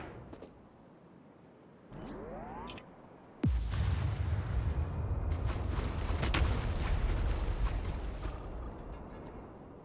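Heavy artillery fire from the factory-building game Factorio, with modded Space Exploration, Krastorio 2 and Rampant content, booming in repeated broadband blasts that build into a dense, continuous barrage through the second half.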